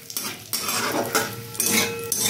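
Spices frying with a pinch of asafoetida in a pan, a steady close sizzle broken by several bursts of stirring and utensil scraping, no talking.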